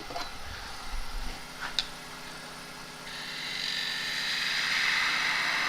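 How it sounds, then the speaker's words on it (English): A wood lathe running at 1300 RPM turns an end grain bowl of monkey puzzle wood, a steady motor hum under a rising, hissing scrape of a gouge cutting into the spinning wood. "Now the lathe's only at 1300 RPM, so I'm still not going at this hell for leather."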